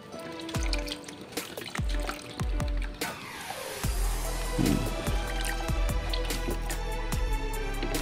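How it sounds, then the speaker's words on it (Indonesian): Water is poured and splashed over a baby Lesser Antillean iguana soaking half-submerged in a shallow container, giving soft trickling and small splashes that swell into a steadier pour midway through. "sambil kita siram-siram biar mereka bisa minum"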